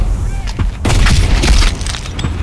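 A grenade explosion in the Black Squad shooter game lands as a heavy, loud boom with a rumbling low-end tail under a busy mix of game noise, with voices talking before it.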